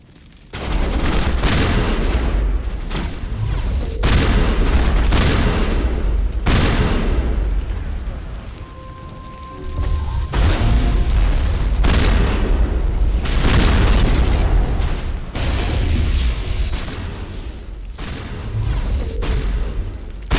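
Explosive rounds firing and bursting in the Mass Effect video game, a dense, loud, nearly continuous barrage of booming shots and blasts that keeps going for many seconds with only brief dips.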